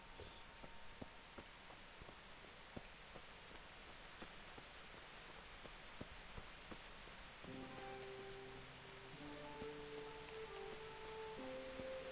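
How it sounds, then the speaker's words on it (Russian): Steady rain hisses, with drops tapping in an irregular rhythm; midway a sustained musical tone begins and continues beneath the rain. "Дождь идет"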